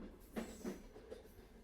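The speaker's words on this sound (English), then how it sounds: "As the train glides onward," A train rolls along the rails in a soft, steady rumble, faint and distant, with a couple of muted clunks from the wheels and no voices.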